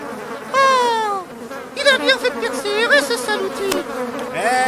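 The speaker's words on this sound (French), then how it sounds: "je crois que là, Saluti se bat avec les abeilles." Bees swarm and buzz around a man pulling honeycomb from a hive: a loud, close, wavering drone that rises and falls in pitch and continues without a break.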